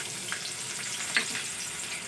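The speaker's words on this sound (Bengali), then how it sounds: "এবারে আমি ওই মাছ ভাজা তেলের মধ্যেই দিয়ে দেবো পেঁয়াজ কুচি" Chopped onion dropped into mustard oil left from frying fish, a faint, even sizzle with a single light clink of a utensil partway through.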